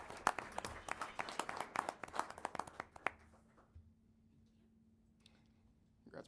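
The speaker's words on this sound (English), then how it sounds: "Clap it up for Preston" A small audience claps for a student at a school board meeting, with sparse, distinct handclaps for about three seconds that then stop, leaving a quiet room with a faint steady hum.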